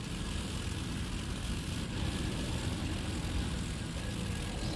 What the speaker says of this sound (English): Oh, my engine's just not starting.